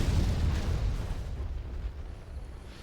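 Scorpion rocket blasts in the Rise of the Reds real-time strategy game: a heavy, rumbling explosion with a deep low boom that swells at the start and then slowly trails off, with no voices.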